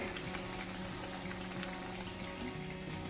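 Leftover chapati pieces coated in flour batter shallow-frying on a hot tava griddle with little oil, a steady close crackling sizzle running throughout with no talk.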